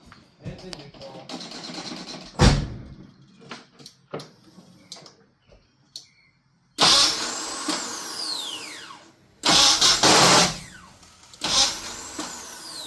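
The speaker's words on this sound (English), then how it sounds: "It spins the engine." The starter cranks the engine of a 1989 Jeep Comanche sitting in neutral during a solenoid wire check, in two loud whirring bursts with a whining tone. Quieter clanks and a voice come before them.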